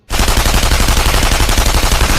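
Loud, rapid automatic gunfire in a war film starts abruptly and continues without pause, a dense rattling stream of shots close by.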